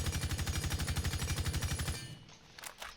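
Rapid automatic gunfire from a weapon in Rainbow Six Siege, a fast even burst of loud close shots lasting about two seconds before cutting off into quieter game ambience.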